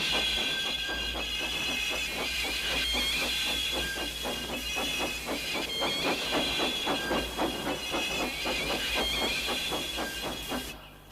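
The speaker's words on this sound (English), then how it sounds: "it pushed and puffed and puffed and pushed as hard as ever it could" A steam locomotive labours with rapid, rhythmic chuffing puffs over a continuous hiss of steam, heard close and fairly loud, without any voices.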